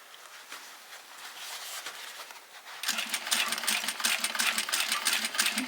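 A sewing machine top stitching a fabric bowl cozy, its fast steady needle chatter starting softly and then growing louder and denser midway, running close and alone without talk.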